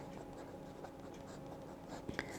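Nib of a Pilot Varsity fountain pen with a medium nib, inked with Noodler's Heart of Darkness, scratching faintly across sketchbook paper in a quiet, steady stretch, with a couple of small taps near the end.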